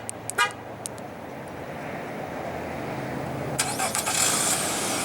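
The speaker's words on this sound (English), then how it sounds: "Let me demonstrate the remote engine start for you guys." A 2016 Nissan Altima's 2.5 L four-cylinder engine starts by remote: a few short chirps, then the cranking catch and a steady mid-pitched idle settling in, heard from close by without talk.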